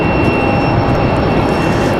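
A JetBlue jet airliner at Raleigh-Durham airport, its engine roar loud and constant with a steady high whine across the brief moment, no voices.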